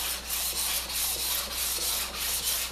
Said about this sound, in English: you can hear it cutting. And I'm just moving back and forth, this way and this way on the stone.